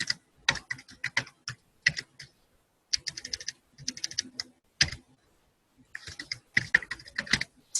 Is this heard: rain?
no